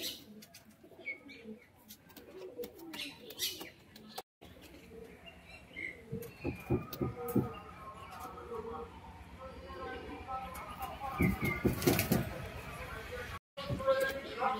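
Benarasi Giribaz pigeons coo softly and steadily in the background while someone talks over them for most of the time, with chirps and a brief flutter coming through.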